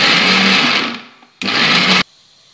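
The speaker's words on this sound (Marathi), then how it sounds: "यात भाजलेली मिरची टाकली आणि कोथिंबीर टाकू आणि मिक्सरमधून जाडसर असं वाटून घेऊ" Kitchen mixer grinder coarsely grinding roasted chilies and coriander, running in two loud whirring bursts separated by a short pause, then stopping.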